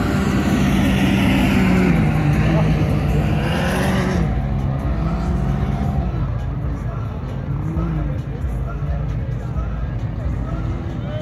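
A 6x6 off-road vehicle drives through the sand dunes at Glamis, its engine roaring loudly and then easing as it moves away, with a crowd chattering and people talking over it.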